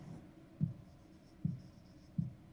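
Chalk or marker strokes on a board during a maths lesson make three soft, evenly spaced scraping taps about a second apart. They are faint and close, over a quiet room hum, with no speech.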